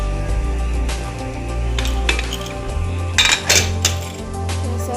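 A pressure cooker of rice pulao being opened: metal lid and pot clatter and clink in several close bursts over a low steady hum.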